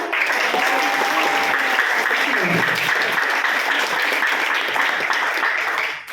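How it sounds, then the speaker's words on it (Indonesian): Thunderous applause from a school audience in a large room, continuous and dense, with a faint voice briefly audible beneath it before the clapping fades at the end. "Kita tepuk tangan dulu untuk kita semua di sini"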